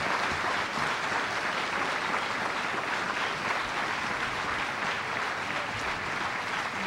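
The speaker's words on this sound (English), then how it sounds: "You need to give them one more round of applause because they're pretty awesome." Sustained applause from an audience after a second-grade musical performance, dense and steady clapping filling the hall throughout without pause.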